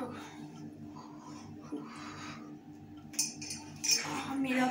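Spoon clinks and scrapes against a bowl while brownie batter is mixed, a run of small close taps and clatters with soft murmured talk underneath.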